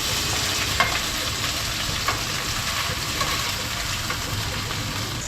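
Konkani potato usli being stirred and mixed in a pan, a steady close sizzle of frying with a few soft spoon clinks, no talking.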